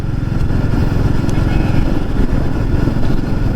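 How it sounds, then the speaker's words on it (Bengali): A motorcycle engine roars steadily while riding along a highway, with loud, continuous low rumbling and wind buffeting and no pause over the few seconds. "অনেক দিন পর হাইওয়েতে গাড়ি চালাচ্ছি"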